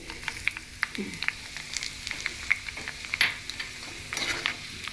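Cumin and coriander seeds crackle lightly in hot oil, a soft, steady sizzle dotted with small pops and a few scrapes of a stirring spoon, close by with no talking.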